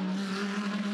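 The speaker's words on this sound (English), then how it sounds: "Rev as he might, those Pirelli tyres aren't going to get any purchase" A beached Audi R8 LMS race car revs hard in the gravel at turn 5 at Adelaide, its Pirelli tyres spinning without grip; a loud, steady, high engine drone holds throughout with no talk.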